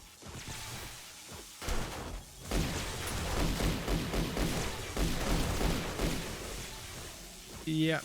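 Dense bursts of 9mm pistol fire in the zombie survival game 7 Days to Die, with rapid repeated shots and heavy impacts over a rumbling background and a voice talking through it.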